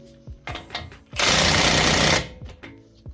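A cordless impact wrench tightening the CV axle nut on a Mazdaspeed 3, a single loud burst of rapid hammering lasting about a second, framed by a few softer clanks of tools before and after.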